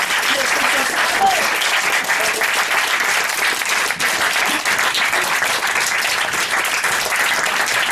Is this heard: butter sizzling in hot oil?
no